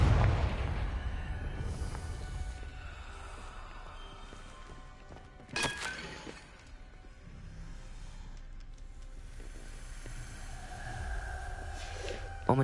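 A fiery Confringo spell blast in Hogwarts Legacy opens with a loud booming burst, followed by a second sharp explosive crack midway over a low, rumbling ambient background.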